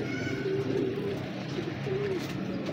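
Domestic pigeons kept by a breeder in a loft give low, throaty coos. They come in short intermittent phrases over a steady background hum, close to the listener and at moderate volume.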